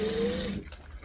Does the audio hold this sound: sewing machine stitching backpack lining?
yes